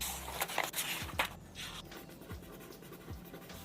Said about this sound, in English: Here we have an example of just pencil writing on a paper.